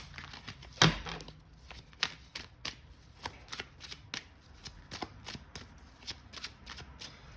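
Tarot cards are shuffled close up in a quick series of crisp riffling slaps and soft flicks, with one sharp knock near the start, and no speech.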